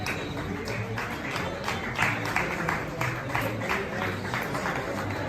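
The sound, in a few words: people in a restaurant clapping for the president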